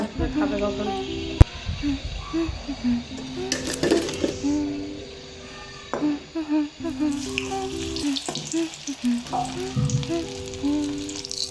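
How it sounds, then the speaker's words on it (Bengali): Vegetable samosas, rolls and cheese balls deep fry in hot oil with a soft bubbling hiss that comes and goes, while a voice talks intermittently over it and a sharp click sounds early on. "কিছু ভেজিটেবল সমোসা রেডি করেছিলাম ওগুলো ভাজছিলাম তারপর রোল বানিয়েছি চিজ বল সব আস্তে আস্তে ভেজে ভেজে রাখছি"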